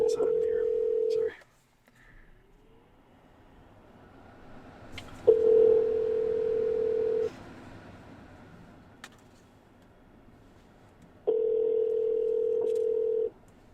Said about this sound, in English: I got a phone number. So, jackpot. I'm actually going to call it right now.